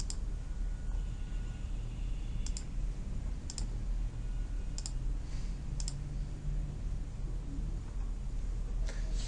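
Mouse clicks in a PowerPoint 2010 session on a computer, a handful of sharp isolated taps spread irregularly over a steady background hiss, with no talking.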